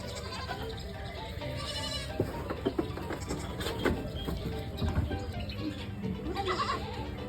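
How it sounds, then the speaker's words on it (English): Goats bleat repeatedly in a farm barnyard at Underwood Family Farms in Moorpark, California, with several overlapping calls rising over a busy, noisy outdoor background. "We're about to pet goats, guys."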